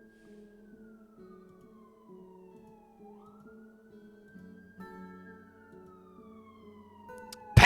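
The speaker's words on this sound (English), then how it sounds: "It's an ambulance." An ambulance siren wails outside through open doors, a faint tone that slowly falls and then rises, heard distantly under low background sounds, with a sharp burst at the very end.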